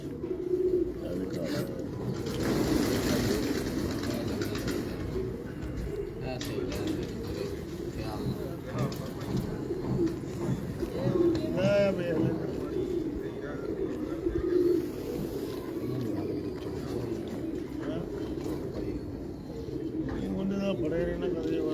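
Several pigeons coo softly and repeatedly at a breeder's loft, low rounded calls recurring through steady background noise, with people talking nearby.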